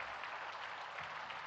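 Sustained, even applause from a large audience at a temple inauguration, honoring the Chief Minister, a thick continuous patter of clapping with no pauses.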